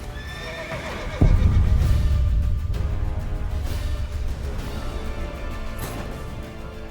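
Roach the horse in The Witcher 3 gives a loud whinny, with hoofbeats clip-clopping at a gallop through the rest of the stretch and a second, fainter neigh near the end.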